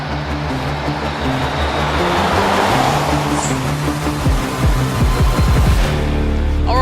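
A 2019 Mercedes-Benz C-Class driving a mountain road, with a steady, loud rumble of engine and road noise throughout and a brief rise in low-end roar near the end; no talking.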